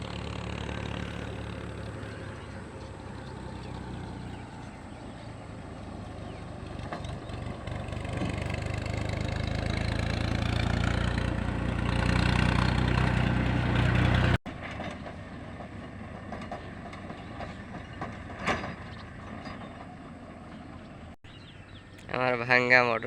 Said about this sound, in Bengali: আমার ভাঙ্গা মোটর সাইকেল